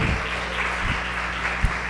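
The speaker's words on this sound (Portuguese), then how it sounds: "Se você crê nisso, dá um aplauso para Ele." Applause from a church congregation during a sermon, a steady spread of clapping with a few louder thumps, held at a constant moderate level.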